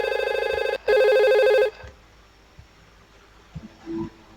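Simulated IP phone ringing in Cisco Packet Tracer, two loud electronic ring bursts with a brief gap, then cutting off into near silence with a few faint clicks.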